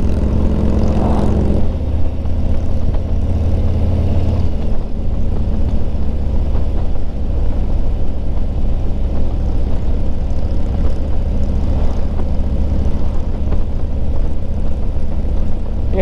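Engine of a 2021 Harley-Davidson Ultra Limited with a cable clutch, droning steadily and loud throughout while riding, a deep continuous rumble with a brief rise in the first few seconds and no talk.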